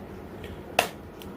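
A single sharp hand clap marks a tala beat in a teaching breakdown of a Hindi song, heard close and alone against a quiet room.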